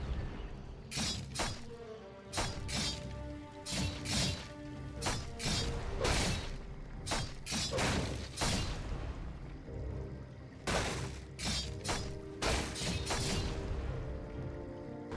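Buildings being destroyed in Warcraft 3 Reforged, with a rapid series of loud crashing, shattering impacts and thuds, irregular bursts that repeat densely over a lingering rumble.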